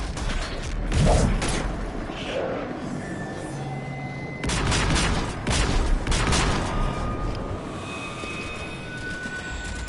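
A squad in the Mass Effect game opens fire, loud bursts of weapon blasts and booms crackling in repeated clusters over a steady battle din, with metallic mechanical tones mixed in.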